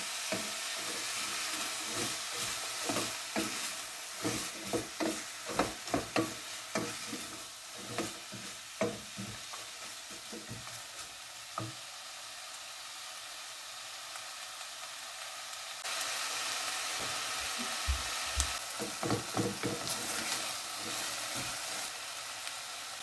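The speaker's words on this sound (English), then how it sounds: "So we're going to just let that cook now. Just come and give it a stir now and again." Minestrone vegetables sizzle steadily in a pan, with repeated close scraping and clattering from stirring that comes in bursts, then fades to a continuous hiss of frying.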